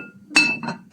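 Metal clinks as a lid is set onto a pot, a sharp ringing clatter followed by a couple of lighter taps.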